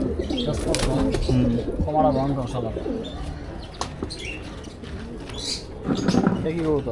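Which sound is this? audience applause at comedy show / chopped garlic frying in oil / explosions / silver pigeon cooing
silver pigeon cooing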